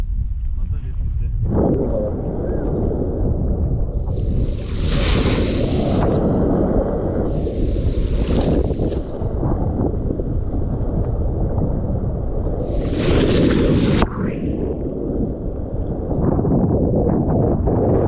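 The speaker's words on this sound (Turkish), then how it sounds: "Müthiş dalgalar." Huge ocean waves crash repeatedly around a person in the water, loud roaring surges with wind buffeting the microphone and several sharper crashing bursts.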